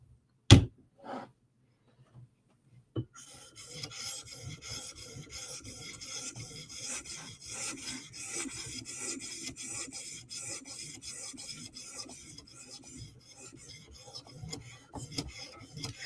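A Chris Reeve Umnumzaan knife drawn across an 800 grit sharpening stone in a steady run of close, raspy strokes, preceded by a few isolated knocks and a brief pause.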